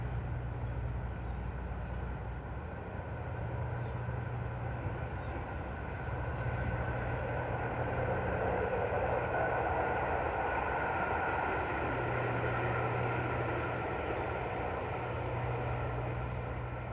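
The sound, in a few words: passing train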